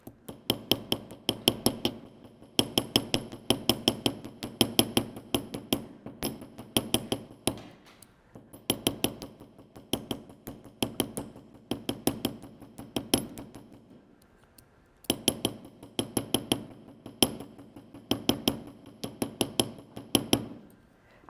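A small hammer taps an edge and texture into metal jewelry in rapid bursts of sharp ringing strikes, grouped in runs with brief pauses, close and with no talking.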